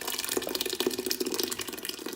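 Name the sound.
pouring blended peanut soup puree back into pot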